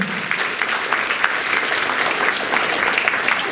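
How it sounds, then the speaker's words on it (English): Steady applause from the crowd at a Black History event, continuous clapping of even loudness heard alone. "Let's give a round of applause to EIL Havarian."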